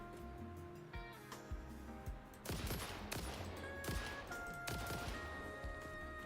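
A player's gun firing in Satisfactory: several sharp shots in a loose burst, then a busier stretch of rapid fire and impacts, fairly close and without talk.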